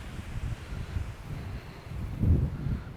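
Strong wind gusting across an alpine lake in autumn, a steady low rumble of buffeting air on the microphone that swells into a heavier gust near the end.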